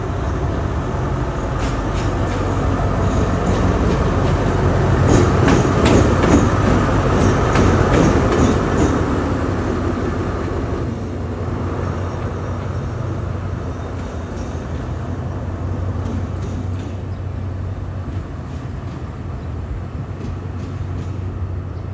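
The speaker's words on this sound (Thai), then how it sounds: "ออสตอม 4134 รถจักรของขบวน 986 นะครับที่ทำมาจากชุมทางหาดใหญ่ ก็กลับบางซื่อครับ" Alsthom locomotive 4134 hauling train 986 from Hat Yai Junction to Bang Sue, heard at Bangkok station: a steady, loud rumble of the diesel engine and rolling wagons throughout, swelling midway, with faint rail clatter and no talk.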